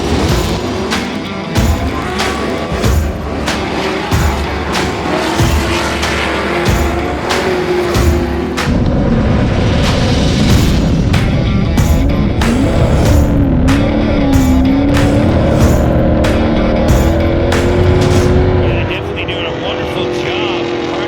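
Off-road race trucks competing at the 2020 Championship Off-road Finals, loud continuous roaring engines with rising and falling revs and sharp bursts, heard under steady race commentary.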